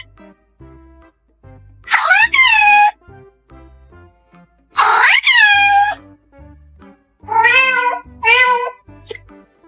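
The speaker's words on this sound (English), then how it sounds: "That jealous meow says, "Excuse me, I'm still here."" A house cat meows loudly in three drawn-out, wavering bursts with quiet gaps between them, the last one split into two quick calls, over a faint repeating background beat.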